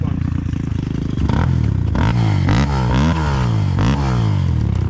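A Chinese enduro motorcycle engine revs hard and loud close by, its pitch rising and falling in repeated sweeps over a steady idle rumble, with some clatter and voices talking.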